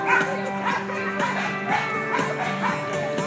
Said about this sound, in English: You can hear the dogs back here barking because they want to be in the pool too.